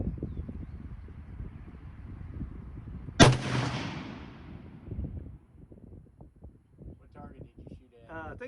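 A Yugo M48A rifle fires one loud, close shot midway, its boom rolling away in a long echo, while people talk quietly before and after.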